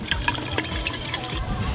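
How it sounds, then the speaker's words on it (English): Orange syrup for an orange rum is poured into a decanter, giving a close, continuous liquid trickle with small splashy drips over about two seconds. "now your orange syrup is ready to be poured into a decanter"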